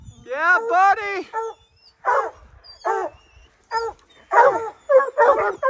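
Hunting dogs on a Utah spring bear hunt in snowy weather bark and bay in loud, close bursts, a quick run of yelps followed by separated barks and clustered cries.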